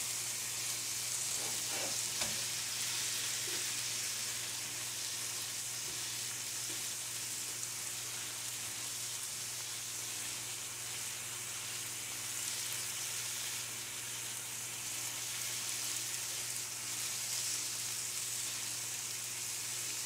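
Marinated pork stir-frying in grape oil gives a steady, loud sizzle throughout, with a few brief clinks of stirring near the start and no voices.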